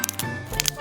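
Crispy freshly fried sanzi, thin strands of fried dough, snapping and crunching: a few quick, sharp crackles in two short bursts, close and dry.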